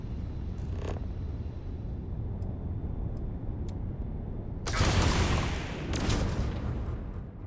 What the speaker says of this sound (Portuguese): eu atirei nos caras, velho